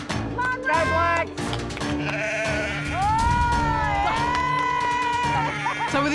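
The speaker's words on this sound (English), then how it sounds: "both teams had managed to grab their first sheep" Sheep bleat loudly and repeatedly during a team competition on a farm, wavering cries rising over shouting people and crowd noise, one long drawn-out bleat standing out.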